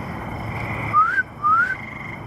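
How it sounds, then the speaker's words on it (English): Inside an abandoned prison at night, two short rising whistles sound over a low background hiss and rumble, each lasting about a quarter second, moderately loud and fairly close. "So it sounded like whistling."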